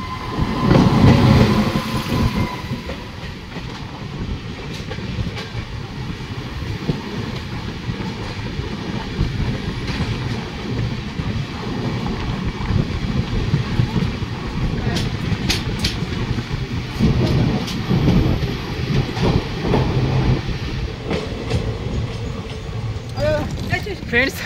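The Biswabharati Intercity Express passes on a neighbouring track, a continuous loud rumble with rhythmic clickety-clack of wheels over rail joints, heard close from a train at Mankar station, with talk mixed in.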